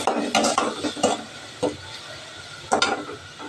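Onions frying in a pan for a pea curry, with a few sharp scraping stirs of a spoon against the pan over a low background sizzle, close and fairly quiet.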